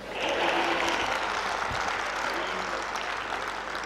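Audience at a kavi sammelan poetry recital at a university, breaking into a burst of clapping that swells quickly and holds steady, a dense indoor applause fading slightly toward the end.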